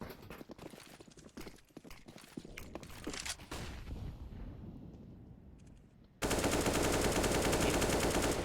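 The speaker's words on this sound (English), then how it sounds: "Some spam shots through Yellow Tarp." Rapid gunfire bursts from a Counter-Strike match at a competitive esports event sound as dense crackling volleys, then fade, before a sudden loud steady burst of noise takes over the final seconds.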